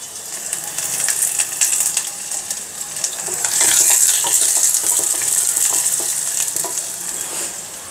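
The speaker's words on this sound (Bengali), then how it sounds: "আমি এখানে আলুটা ভেজে নিব, আর এখানে মুরগিটা চড়াচ্ছি" Chicken for biryani cooks in a hot pot with a steady, crackling sizzle, loud and close, broken by occasional scraping stirs and clinks of a spoon. The frying swells in the middle and holds without talk.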